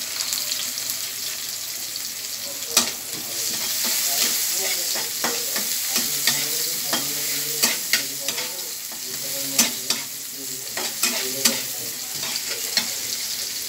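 Vegetables and onion sizzle in a frying pan for a Chinese vegetable dish while a utensil stirs them, giving steady frying hiss broken by frequent sharp scraping clicks against the pan, close and fairly loud, with no talking.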